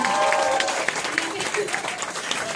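At a graduation ceremony, an audience claps for Joseph Lim with moderate, steady applause that runs under a shouting voice for the whole stretch.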